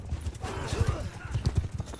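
Horse hooves clip-clop steadily across a bridge in the Mount & Blade II: Bannerlord multiplayer game, a close, rhythmic trot of repeated hoofbeats with faint game ambience behind it.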